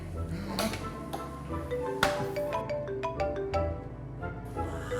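A mobile phone ringtone plays a bright repeating melody over a background of indoor noise, with brief sharp clicks scattered through it.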